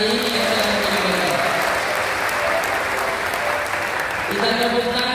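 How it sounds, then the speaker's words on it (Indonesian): Congregation at an ecumenical church service applauding the choir, steady dense clapping throughout, loud and close, with held musical tones from the choir or instruments sounding under it. "Saya minta kita tepuk tangan untuk paduan suara yang luar biasa hari ini yang telah terlibat."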